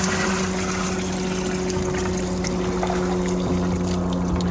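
Water pours steadily into containers being filled for brewing beer, a continuous loud rush with a faint hum beneath, running without a break and with no talk.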